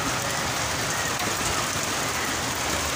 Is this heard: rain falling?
yes